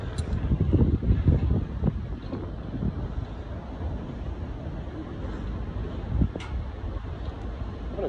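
Steady strong wind buffets the microphone outdoors at a viewpoint in hot weather near Cairns, with heavy low rumbling gusts, strongest early on, and a person speaking briefly over it.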